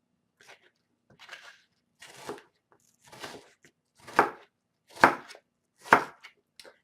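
Onion chopped with a knife on a board, seven distinct cuts that start soft and grow louder and sharper, evenly spaced about a second apart and close by, with no talking over them.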